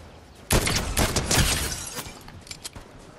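Gunfire in Fortnite, a sudden loud volley of shots that opens a dense, crackling burst and tapers into scattered sharper cracks, with no voices.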